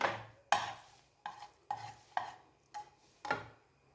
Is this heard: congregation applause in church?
no